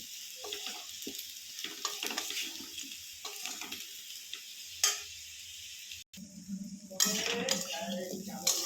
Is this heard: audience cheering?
no